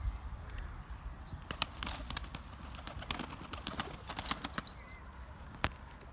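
Pigeons at a loft give soft low cooing, with scattered sharp clicks and flutters of wings nearby over a quiet outdoor background.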